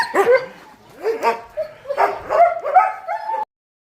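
Several dogs bark and yip in quick bursts, some sharp, some whining, loud and fairly close over about three seconds, then stopping abruptly.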